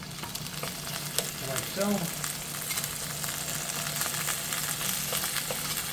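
Tomatoes sizzle and fry in a pan for Italian long hots with rustic white pasta, a steady crackle with a few stirring clinks while someone speaks briefly over it.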